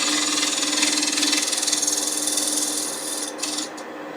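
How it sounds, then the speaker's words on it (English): A carbide tool hollows a spinning scrap wood ornament on a wood lathe, a steady high rasping hiss with a faint motor hum beneath, easing off near the end with a few short scrapes. "If you have a carbide tool, this is the kind of approach you use to hollow it."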